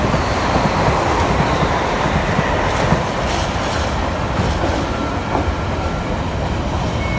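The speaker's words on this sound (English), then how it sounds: "Class 350 heads into London." A Class 350 electric train rumbles past close by, a steady loud roar of wheels and motor with faint clattering over the rails throughout.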